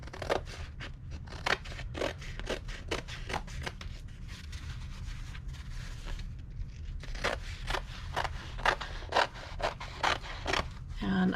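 Scissors snip repeatedly through canvas for a reverse canvas craft, making a close series of crisp cuts with short pauses and faint rustling between them.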